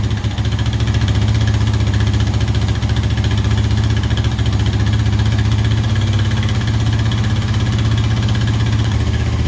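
A used ATV engine runs at a steady, rapid idle after a cold start, its loud, even chugging pulse close by and unbroken, with no talking over it.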